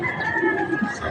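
Pigeons coo softly at their nest in a short, close, steady run of low murmuring calls.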